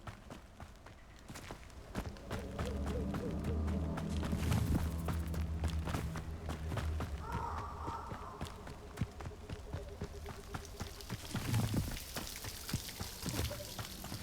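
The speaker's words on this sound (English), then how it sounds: "The waterfall." A rushing waterfall in the video game Hogwarts Legacy, a steady broad wash of falling water heard throughout, with footstep-like taps and scattered game effects layered over it.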